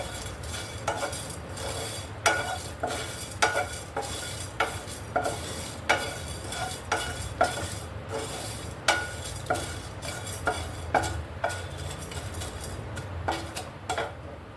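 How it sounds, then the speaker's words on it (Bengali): Whole cumin and spices dry roasting in a pan, stirred with a utensil that scrapes and taps the metal in a steady rhythm of sharp strikes over a faint sizzle, with no talk. "এবার এই মশলাটাকে একটু হালকা ভেজে নেব।"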